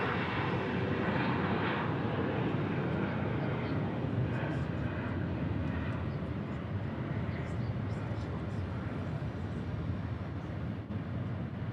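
A Delta Airlines CRJ jet takes off at an airport, a broad sustained roar of jet engines heard from a distance, steady and loud, with someone talking over it.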